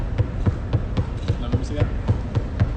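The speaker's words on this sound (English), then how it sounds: "try to keep that dribble nice and tight, nice and low" A basketball dribbled low and fast in a home workout, about a dozen evenly spaced thuds roughly four per second, close and clear, with a voice talking faintly underneath.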